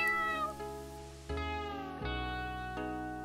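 A cat meows repeatedly in the video game Beetle Ninja, several clear, tonal calls in sequence, each starting sharply and trailing off, close and isolated with no talk.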